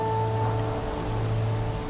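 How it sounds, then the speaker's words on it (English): Steady rain falling in a continuous wash of hiss, with no talk. "The rain starts to fall"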